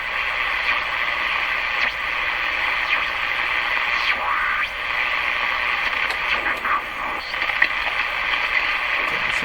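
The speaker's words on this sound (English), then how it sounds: "Morse code, a little fast for me." A Hallicrafters S-40A shortwave receiver on the ham band picks up fast Morse code, faint rapid beeps buried in a steady hiss of static and crackle that runs throughout, with no voices.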